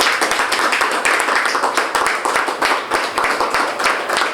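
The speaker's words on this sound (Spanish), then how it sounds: "Démosle una ofrenda de palmas a nuestro Dios." A church congregation claps together in a quick, steady rhythm of dense, bright hand claps that carries on without pause through the whole few seconds.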